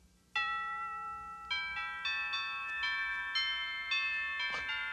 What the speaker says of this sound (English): A doorbell.